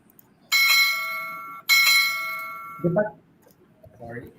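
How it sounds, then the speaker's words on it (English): A bright bell rings twice in quick succession, each strike ringing out for about a second before fading, followed by brief faint talking. "the timekeeper will play the bell sound twice"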